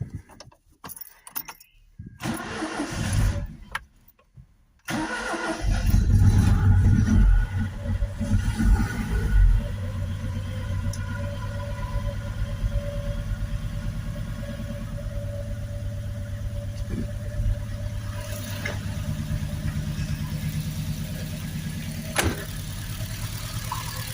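A restored Triumph Dolomite engine cranks over after a jangle of keys, catches, and settles into a steady, close idle that runs on for a long stretch.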